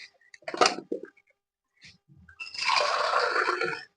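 Water splashes and pours into pots on a kitchen stove for Maggi noodles: a few short sloshes at first, then a steady, fairly loud stream of running water for over a second.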